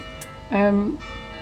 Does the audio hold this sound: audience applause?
no